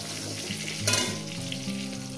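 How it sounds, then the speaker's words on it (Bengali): Vegetables fry in oil in a pan, making a loud, continuous sizzle and crackle close by with no talking. "আর 1-2 মিনিট ভাজবো, তারপরে এটাকে নামিয়ে দেবো"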